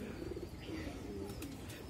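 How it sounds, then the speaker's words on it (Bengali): Rooftop flying pigeons give soft, low cooing calls, a few murmured coos close by over faint background noise. "আর এই হলো ছাদের উড়াল কবুতর সব।"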